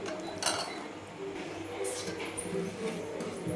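A spoon stirs kadhi boiling in a pot on a high flame, scraping and clinking steadily against the metal over a bubbling background.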